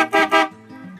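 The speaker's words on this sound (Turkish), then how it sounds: "Volkswagen Passat kornası var burada" A Volkswagen Passat car horn fitted on a Deutz Fahr 4050 tractor gives two short loud honks close by, followed by a lower steady tone as the engine idles.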